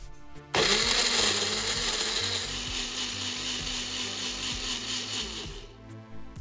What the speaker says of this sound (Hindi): It's time to blend.